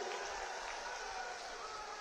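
A large outdoor political rally crowd claps steadily for Bihar deputy chief minister Vijay Kumar Sinha, a dense, continuous wash of applause heard from some distance without any speech over it.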